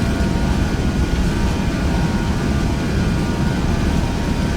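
Airbus A320 engines roar at full takeoff power in the Prepar3D flight simulator, a dense, loud, unbroken rumble throughout.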